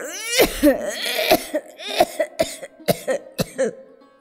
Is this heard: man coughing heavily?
yes